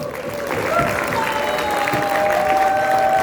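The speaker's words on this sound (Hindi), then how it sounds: "इनके लिए एक बार जोरदार तालियां हो जाए।" Audience applause at a Soul Chef selling seminar in Vadodara, a sustained even clapping from a crowd filling the hall for a few seconds, with a faint tone held underneath.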